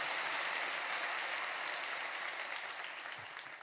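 A church congregation claps for its choir during a Friday evening service, a dense, even roar of applause from many hands that slowly fades toward the end.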